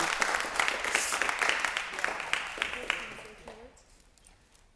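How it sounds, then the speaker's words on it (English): Audience applause fills a Pittsburgh City Council regular meeting, a dense patter of clapping that thins and fades toward the end while voices murmur underneath. "I'm going to give you all a round of applause for having me"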